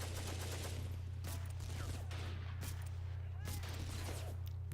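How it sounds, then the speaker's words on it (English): German machine guns firing in the Combat Mission World War II game, a faint, distant crackle of sharp bursts over a steady low hum, with someone talking throughout. "German MGs are the bane of my life."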